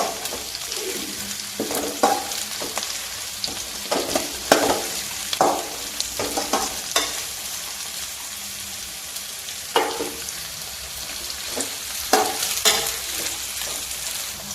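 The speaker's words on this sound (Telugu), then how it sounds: "క్యారెట్ ముక్కలు వేస్తున్నానండి క్యారెట్ ముక్కలు కూడా కొంచెం మగ్గనివ్వాలి" Carrot pieces for carrot rice fry in a pan, making a continuous close sizzle broken by periodic scraping stir strokes, with no talking heard.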